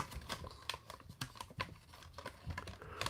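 Scissors snipping at plastic toy packaging around an action figure, a quiet series of irregular crinkles, snaps and clicks close to the microphone, with no speech.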